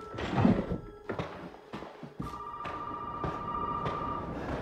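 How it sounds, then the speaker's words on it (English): Telephone ringing in the Resident Evil 7 horror game, a bright bell tone sustained over the last half, with several dull thunks and knocks earlier and no talk over it. "Why all of a sudden we got to get a phone call?"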